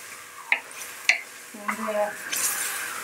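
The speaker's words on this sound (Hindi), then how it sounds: "ये माशाल्लाह टमाटर मिक्स हो रहे हैं।" Tomatoes stirred into beef mince in a pot while cooking dum keema: a few sharp spoon scrapes and clinks against the metal, followed by soft sizzling and shuffling of the mixture.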